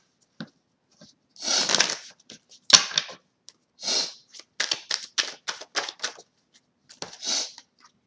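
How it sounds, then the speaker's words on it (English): Tarot cards shuffled by hand in short, crisp riffling bursts and soft slaps. The bursts are spaced unevenly, with brief pauses between them, and sound close and fairly quiet. "So I'm going to shuffle again."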